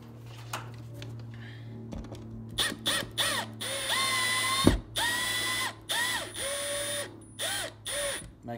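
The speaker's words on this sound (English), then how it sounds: "for now I want to screw it in place first." An electrical box fitting being screwed into place in a garage outlet install gives a series of squeaky, creaking turns in short repeated bursts, close and fairly loud, with no talk.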